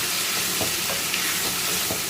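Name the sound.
squid being sautéed, sizzling in a pan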